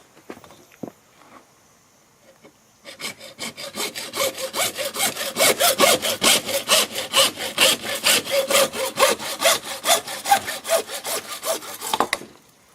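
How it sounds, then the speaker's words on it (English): A hacksaw cuts through a short piece of CPVC pipe in quick, even back-and-forth strokes, close and raspy, starting after a brief quiet pause and running steadily for about nine seconds before stopping. "we simply cut this with a hacksaw"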